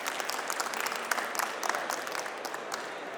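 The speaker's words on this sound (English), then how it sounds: "a huge round of applause to all the women who continue to break the barriers" Applause from an audience at a woodworking industry conference session fills the moment: dense, even clapping from a crowd, sustained throughout with brief sharper peaks, no one speaking over it.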